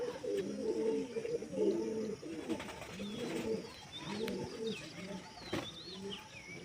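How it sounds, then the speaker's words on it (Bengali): Pigeons coo softly and steadily in a rooftop setting just before release, the low rolling calls repeating in clear phrases with faint chirps in the background. "চলুন পায়রাগুলোকে উড়িয়ে দেওয়া যাক"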